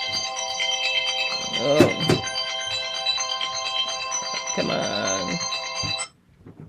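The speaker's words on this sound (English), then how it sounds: "That was my phone going off." A mobile phone ringtone plays a sustained bright melodic tone for about six seconds before cutting off abruptly, with a couple of short spoken exclamations over it.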